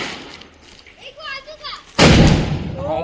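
A Diwali firecracker bomb goes off with one loud, sharp blast that trails into a rumbling crackle, following a stretch of children's chatter.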